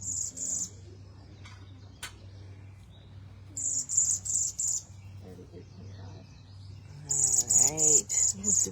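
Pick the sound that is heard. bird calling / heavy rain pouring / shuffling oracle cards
bird calling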